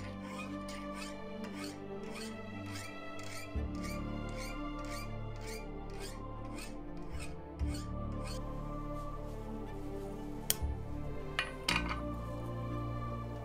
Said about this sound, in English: you can see that I have started beveling the edges by filing